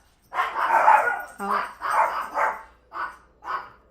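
Several dogs bark in short bursts close by, five or so separate volleys spread across a few seconds, with brief yips mixed in and gaps of quiet between them.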